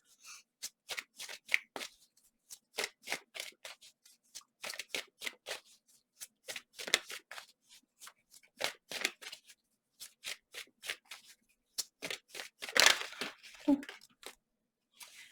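Tarot cards being shuffled in repeated short riffling bursts with brief pauses between them, close and clear, and a voice talking toward the end.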